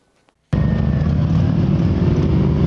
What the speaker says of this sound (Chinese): 重机伴随着轰隆隆的引擎声，一步接着一步呼啸而过